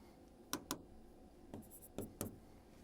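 Chalk or marker strokes on a board during a math lesson on remainders, five short sharp taps and scrapes in two quick pairs and a later trio, faint against a quiet room with no talk.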